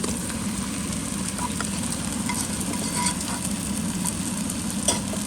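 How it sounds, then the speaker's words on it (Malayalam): Marinated chicken for a chicken roast goes into a hot pan of well-sautéed ingredients and is stirred, giving a loud, steady, close sizzle with scraping stirring throughout and no talking. "അതിലേക്ക് നമ്മൾ നേരത്തെ മാരിനേറ്റ് ചെയ്ത് വെച്ചേക്കുന്ന ചിക്കൻ ആഡ് ചെയ്ത് കൊടുക്കുകയാണ്."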